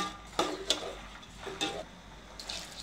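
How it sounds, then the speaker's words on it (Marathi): Rice being stirred in a metal pot while cooking jeera rice, giving a few quiet, separate scraping strokes with soft clinks spaced through a hushed kitchen. "थोडंसं काही ढवळते"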